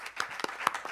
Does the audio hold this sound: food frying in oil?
no